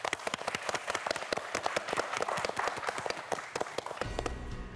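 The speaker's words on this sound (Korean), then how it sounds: "박수 부탁드립니다." A small audience claps for four students after their challenge on a televised quiz show; sharp, scattered individual claps dominate for about four seconds before giving way to a low hum.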